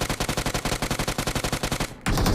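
Rapid automatic UMP gunfire in the BGMI mobile shooter game, a loud steady burst of about twenty evenly spaced shots followed by a brief gap and a dense blast of noise at the end.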